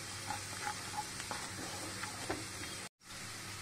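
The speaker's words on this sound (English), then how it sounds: "Next we need to fry them. Continue to stir the ingredients until they are slightly cooked." Mango pickle ingredients frying in a pan while being stirred: a steady, faint sizzle with soft scraping strokes, cut off by a brief silence near the end before resuming.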